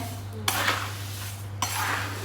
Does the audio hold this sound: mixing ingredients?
yes